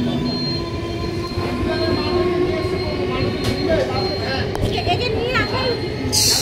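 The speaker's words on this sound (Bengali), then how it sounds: "ডাউনে গাড়ি আসছে।" A train comes along the down line near Chakdaha, rumbling steadily with high wheel squeals and scraping as it passes close by, while people talk nearby.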